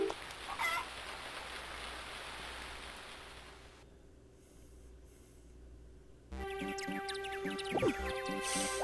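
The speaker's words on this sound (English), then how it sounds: "We can hear the birds chirping." Farm birds chirping and clucking in the Harvest Moon: Friends of Mineral Town video game, a short game tune and sound effects, with a quiet pause partway through before a brighter jingle cuts in.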